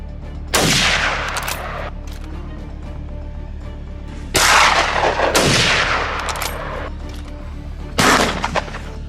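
Hunters fire guns at boars from a helicopter: four loud, sharp shots at irregular intervals, each followed by a rolling echo that fades out, over a constant low helicopter drone.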